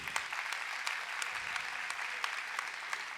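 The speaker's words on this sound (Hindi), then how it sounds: "अपने लिए जोरदार तालियां बजा लीजिए" Applause from party workers gathered at an Aam Aadmi Party Mumbai meeting, a moderate crowd clapping steadily with a few sharper individual claps standing out, heard alone without speech.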